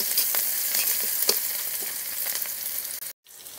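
Onions frying in a pan give a loud, constant sizzling hiss with light crackles and a few stirring taps, then cut off briefly just before the end.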